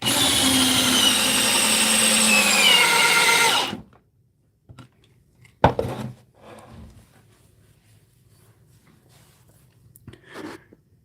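A DeWalt 870 hydraulic impact driver drives a screw in one loud, close, continuous whirring burst of about four seconds, then stops, followed by quiet handling knocks.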